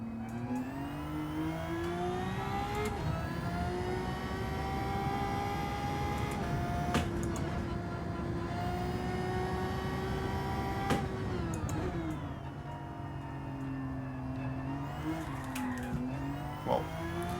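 Magma Genesis X Gran Racer VGT Concept in Gran Turismo 7 driving steadily, a loud continuous engine drone with shifting harmonic pitch that dips near the end, heard alone without talk.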